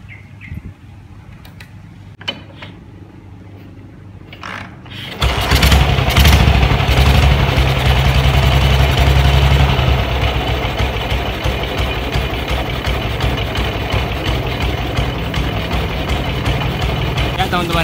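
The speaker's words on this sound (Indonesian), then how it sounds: "Teman-teman, ini dia suara BSA M21." A BSA M21 600cc side-valve motorcycle fires up after a few quiet seconds and settles into a loud, steady, throbbing idle that runs close by to the end.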